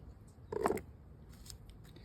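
Scissors snip a flower stem short while making a boutonnière, one close, crisp cut followed by faint handling sounds in a quiet room.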